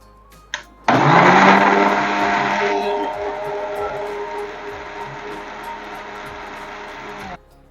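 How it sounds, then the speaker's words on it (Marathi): A kitchen mixer blends muskmelon with chilled milk for a milkshake, a loud steady whirring roar that starts abruptly, runs for about six seconds and then cuts off. "आता हे आपल्याला फक्त मिक्सरला फिरवून घ्यायचंय."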